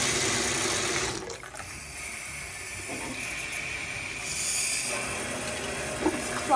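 Hot water runs from a tap into a bath, a steady close rushing hiss that fills the whole stretch, briefly dipping and then swelling again near the end, with no talking.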